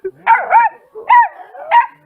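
A fierce little dog gives three loud, close barks at an even pace, each a harsh yapping burst with brief pauses between.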